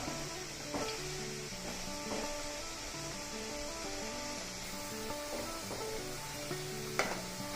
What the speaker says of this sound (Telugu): ఈ రొయ్యల్ని ఇంకొంచెం కలర్ రానిద్దాము దోరగా వేగనిద్దాం